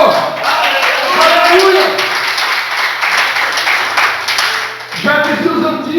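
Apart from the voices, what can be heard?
congregation applauding in church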